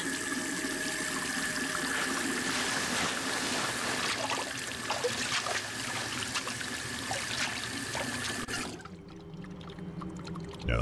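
Running water pours steadily into a sink in the video game The Suicide of Rachel Foster, a continuous close splashing stream that cuts off near the end, leaving a quieter room tone.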